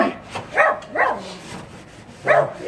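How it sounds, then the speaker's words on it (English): A dog barks three times near a car under repair in a garage or driveway, each bark short and fairly close, with the first two coming quickly and the third after a pause. "What are you barking at?"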